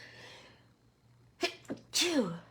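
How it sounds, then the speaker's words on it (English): A single loud sneeze, close by, preceded by a quick sharp inhale, after a moment of quiet breathing. "Oh, I'm going to sneeze."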